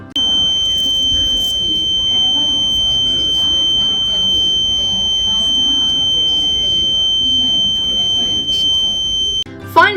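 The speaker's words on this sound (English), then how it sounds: "an employee opens the door to the gate before it has been unlocked properly, so the alarm goes off." A door alarm at an airport gate sounds continuously, a steady high-pitched electronic tone held for the full stretch over a murmur of terminal crowd noise and voices, cutting off near the end.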